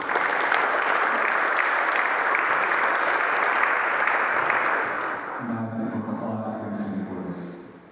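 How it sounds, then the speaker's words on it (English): An audience claps at an evening carol service by candlelight, with dense sustained applause for about five seconds that then thins out, as voices and a few high tones carry on in the fading end. "We'll give you more round of applause."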